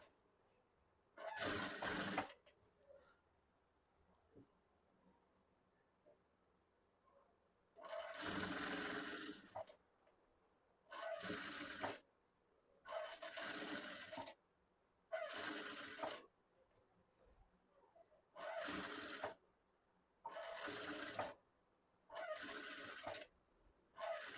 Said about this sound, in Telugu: ఈ రౌండ్ తిరిగిన దగ్గర చిన్న చిన్నగా జాగ్రత్తగా స్టిచ్ చేసుకోండి.